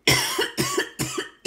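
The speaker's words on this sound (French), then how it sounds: "excusez-moi, je tousse encore" Four separate harsh coughs in quick succession from a woman nearby, each a short burst with a brief gap between, loud and close with no talk over them.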